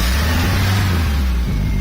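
Boat engine running on a water hose out of the water, started without choke and held around 2,000 RPM in neutral, a steady close mechanical drone with low rumble and no talk.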